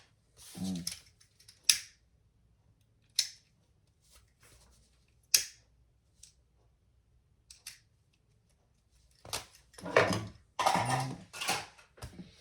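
Scissors trimming excess fabric off the sides of a crossbody bag, a few sharp separate snips with quiet pauses between them and a quicker cluster of cuts near the end.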